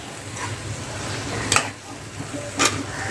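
A spoon stirs cabbage sabzi with crushed peanuts in a pan, giving soft scraping and a low sizzle, with two brief louder clinks of the spoon against the pan.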